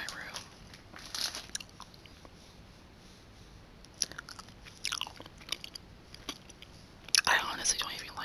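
Close whispered ASMR of gum chewing and eating gummy sharks, with soft wet chewing and biting clicks in scattered bursts and a sharper crunchy flurry near the end, under faint whispering.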